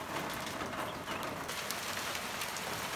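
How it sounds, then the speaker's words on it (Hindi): Heavy rain with small hailstones falls steadily outdoors in Azad Kashmir in March, a dense continuous patter with occasional sharper ticks and a faint bird in the background. "सलसल बारिश हो रही है और अभी ये हल्के हल्के वो छोटे छोटे ओले पड़ने लगे हैं"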